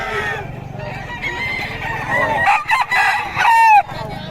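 Spartan-bred gamecocks and stags at a fowl sale in Bocaue crow loudly and close, one long crow rising and breaking off near the end over a background of clucking birds.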